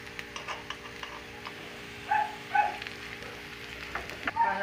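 Cassava fries in a pan with only a little cooking oil, giving a faint, quiet sizzle with soft intermittent ticks and pops, and several slightly louder crackles near the middle and end.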